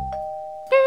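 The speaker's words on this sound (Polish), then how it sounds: "Super, dzwonek jest świetny." A doorbell on a house in a survival video game gives a clean two-tone ding-dong chime, a sustained first note followed by a brighter second strike, close and clear with no talk over it.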